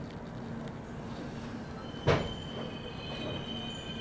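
Ahmedabad Gorakhpur Express rail cars creaking at Bina station as the train begins departing, a steady low rumble and hum with one sharp metallic clank midway, no voices.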